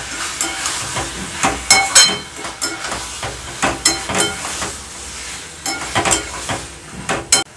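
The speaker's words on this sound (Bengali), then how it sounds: "পনিরটা দিয়ে একটুখানি মিশিয়ে নেবো ভালো করে মশলাটা।" Paneer being stirred into spice masala in a hot pan for a no-onion, no-garlic vegetarian sesame paneer dish, steady sizzling with repeated scraping spoon strokes against the metal, close and fairly loud, no talking.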